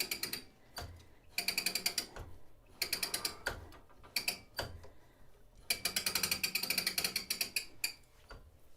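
A quilting frame's ratchet clicks in repeated bursts as the quilt is wound up during free-motion work on a hexie quilt, with sharp, close mechanical ticks in irregular runs separated by short pauses.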